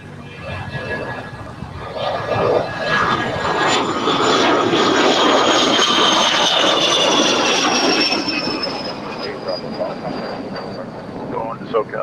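An American Airlines jet takes off from runway 25 Right at LAX, its engines rising into a loud, whining roar that holds for several seconds before gradually fading as the aircraft climbs away.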